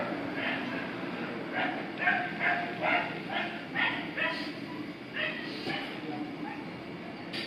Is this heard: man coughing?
no